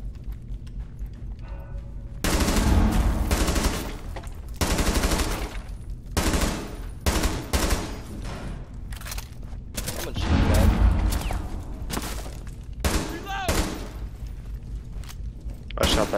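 Automatic gunfire in Rainbow Six Siege, shooting a hole up high through a wall: loud, dense bursts of rapid shots come in several clusters with short gaps, while a voice talks quietly underneath.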